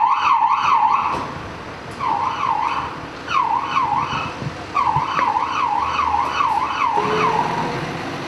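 Wailing sirens of fire-dispatched ambulance, tanker and pump trucks cycle up and down repeatedly, loud and fairly close, with brief pauses between bursts and traffic rumble underneath.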